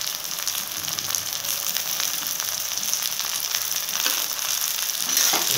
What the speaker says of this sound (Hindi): इसमें हम लोग मशरूम को ऐड कर देंगे, क्योंकि ये भी प्याज में भुना जाए अच्छे तरीके से।